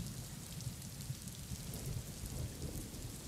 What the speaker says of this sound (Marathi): एकीकडे मुंबईमध्ये आपण पाहतोय मुसळधार पाऊस सुरू आहे